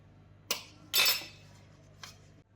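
Hands mixing snack dough with salt and spices in a bowl for a garlic chili snack, making three short clinks and scrapes against the bowl, close and otherwise quiet.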